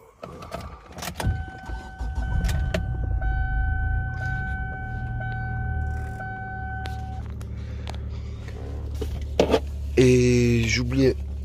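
A 2006 Kia Sportage starts up: a starter crank and catch into a steady idle that settles into a low rumble, with someone speaking French at the start and a brief squeaky sound near the end.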